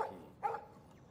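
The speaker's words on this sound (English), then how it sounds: "No barking." A single dog bark from the video game Life is Strange, one short close burst standing alone over a faint background.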